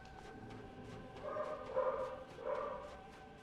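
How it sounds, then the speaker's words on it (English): A dog barks faintly in the background behind the sound of a Dark Souls game, giving a few short, muffled barks in quick succession. "my dog is barking again in the background"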